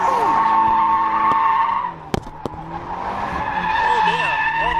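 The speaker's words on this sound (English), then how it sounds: "She's got to do some mad skids" Abarth 124 Spider tyres skidding and squealing in long sustained sideways slides, loud and close, with engine drone, a brief dip midway and a couple of sharp knocks, and a voice talking faintly underneath.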